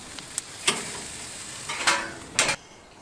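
Roast pork crisping on a Trailblazer BBQ gives off a few short bursts of crackling sizzle over a low background hiss.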